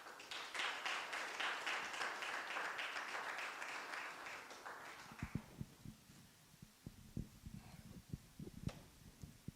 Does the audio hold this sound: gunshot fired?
no